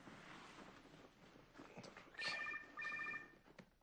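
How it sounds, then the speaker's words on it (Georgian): A telephone rings twice in short trilling bursts against a busy, noisy background with clattering sounds. "უპასუხე ტელეფონს, უპასუხე."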